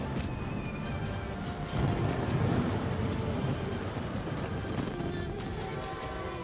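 A train rolls in within the World of Tanks video game as a steady low rumble with faint rhythmic clatter, swelling slightly partway through and staying continuous without any voices.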